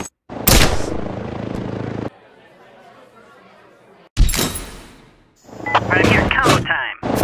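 A cannon in the Henry Stickmin video game fires in loud, sharp booming blasts, one near the start and another burst around the middle, each followed by decaying rumble, with further game sounds at the end.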